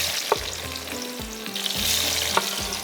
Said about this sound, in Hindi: ये अब हम इसमें डाल रहे हैं टमाटर।